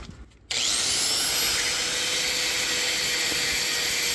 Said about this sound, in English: I'm gonna just go ahead and get the grinder, just flatten this out so it's all smooth.